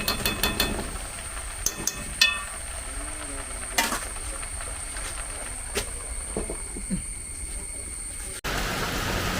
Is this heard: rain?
yes